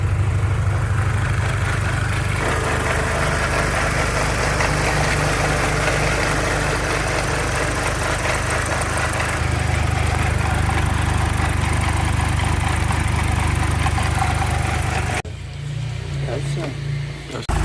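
A BMW E46 car engine idles smoothly and steadily at close range, a continuous low hum with a voice talking over it; the tone shifts slightly partway through before a brief change near the end.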